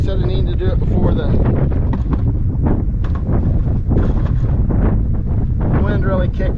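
Strong wind buffets the microphone outdoors by beehives, a loud, continuous rumbling roar with gusty swells, and someone talks over it.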